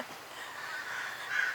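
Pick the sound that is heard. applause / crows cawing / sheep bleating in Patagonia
crows cawing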